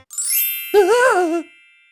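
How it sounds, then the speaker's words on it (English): A cartoon text message alert rings out alone as a bright ding with a shimmering jingle tail, clear and close, then fades to silence. "He's afraid of the sound of his own text message alerts."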